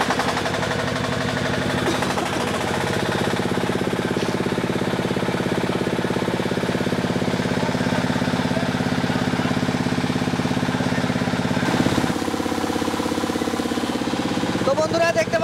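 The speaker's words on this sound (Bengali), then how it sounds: "তো এখন আমি আপনাদেরকে ধান মাড়াই করে দেখানোর চেষ্টা করব" A steel-body three-screen auto rice mill runs continuously while threshing and husking paddy, a loud dense mechanical roar with rattling and hum throughout, close by and steady, with faint voices now and then.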